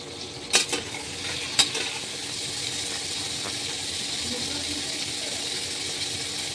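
Turmeric and spices fry in hot oil for a pointed gourd curry, a steady close sizzle with a couple of sharp utensil clinks near the start.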